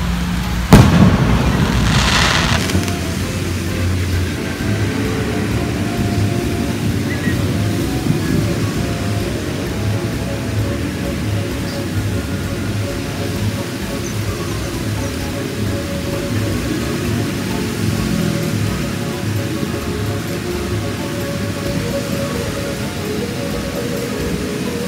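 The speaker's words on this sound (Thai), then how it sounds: "เราจะมาชมพุแสงสีเสียงในบรรยากาศฝนตกหนักเลยนะครับ" A fireworks display over the Chao Phraya River at Bangkok's Memorial Bridge during an APEC 2022 celebration, heard through heavy rain, with one sharp close bang at the start followed by a steady dense roar of rain and distant rumbling bursts.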